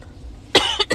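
A person coughs after something went down the wrong way: a brief, sharp, close cough burst followed by a second, smaller hack, loud and alone.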